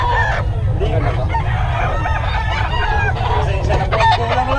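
Roosters crow loudly and chickens cluck in a busy market crowd, with overlapping calls rising and falling close by over a steady low hum of voices and activity.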